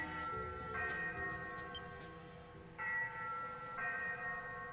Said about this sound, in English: The ship's bell?